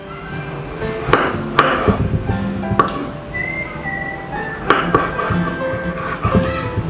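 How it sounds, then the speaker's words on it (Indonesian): Knife chopping a tomato on a cutting board in a kitchen while preparing Padang-style sour spicy fish, giving a few sharp, irregular close knocks over light kitchen clatter and background hum. "Potong juga 1 buah tomat."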